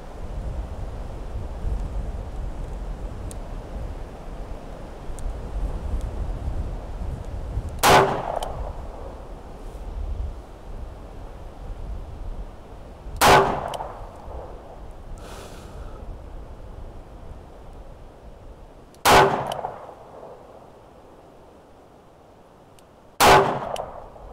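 A Smith & Wesson Performance Center Pro Series revolver fires four sharp, ringing shots at an outdoor range near a chronograph, spaced several seconds apart over steady wind noise.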